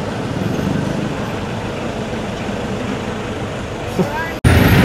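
City traffic in Baguio heard from inside a moving taxi, a steady rumble of engine and road noise with passing vehicles, ending in a brief cut and a louder burst.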